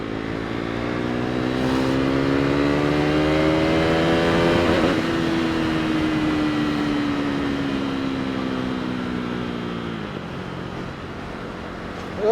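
A motorbike or small vehicle ridden roughly, its engine revving up strongly with rising and falling pitch, steady and close, loud throughout with no talking.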